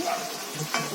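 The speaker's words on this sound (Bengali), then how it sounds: "মা এখনো চিংড়ি মাছ ভাজছে তো চিংড়ি মাছ ভাজা হয়ে গেছে শশা ভাজছে তারপর ঢ্যাঁড়স ভাজবে" Vegetables, including cucumber, sizzle in hot oil during home cooking for a puja feast: a brief, steady, close frying hiss with faint stirring and no voices.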